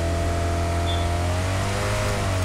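Koenigsegg Jesko supercar engine revving under boost, a loud, steady droning roar with a slowly rising pitch that carries on without a break.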